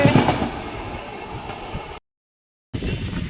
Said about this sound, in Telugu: ముంబై నాగర్కోయిల్ డైలీ ఎక్స్ప్రెస్ అయితే వెళ్తుంది చూసుకోవచ్చు